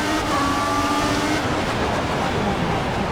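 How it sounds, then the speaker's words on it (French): Engines roar loud and close as the pack launches at the start of a Formula 1 video game race at the Singapore Grand Prix, a dense sustained whine of revving cars, with a commentator talking over it. "Et attention, le départ d'Anthony Roigny"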